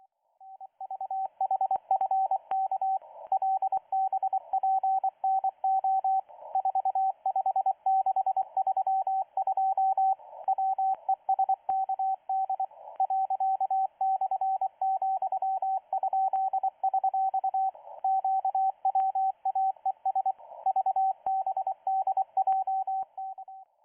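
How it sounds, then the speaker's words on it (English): A single steady Morse tone keys on and off continuously for the whole span, from the FAV-22 French military Morse training station sending five-figure groups on a 1 kW transmitter at Vernon, clean and alone with no talk. "It originates from a French military Morse training facility and sends 5-figure groups of letters."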